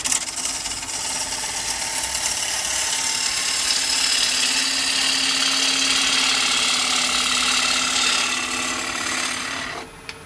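Wood lathe roughing down a natural-edge bowl, a steady loud rasping, scraping cut with a low motor hum running continuously for about ten seconds before stopping abruptly at the end.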